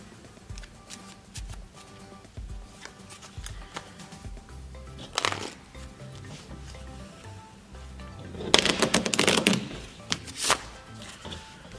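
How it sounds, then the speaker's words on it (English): Playing cards riffled and shuffled in a couple of bursts, with soft handling and tapping between them, close up and moderately loud. "Still shuffling, still doing stuff."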